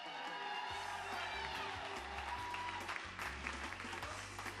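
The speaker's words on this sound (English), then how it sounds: "a big round of applause for the associate producer for closest to the pin" Audience applause at a game-show style event, a continuous soft wash of clapping heard at a distance, with a low rhythmic pulse of music underneath.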